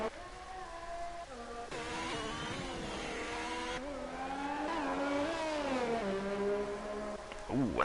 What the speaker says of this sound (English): You've got cars coming into the pits now.